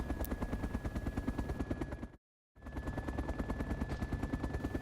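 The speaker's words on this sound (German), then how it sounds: "Wow, ist aber ein grosser Heli." Heavy, continuous rotor thrum of a large Chinook helicopter in a video game, loud and steady with rapid chopping pulses, briefly cutting to silence midway before resuming at full strength.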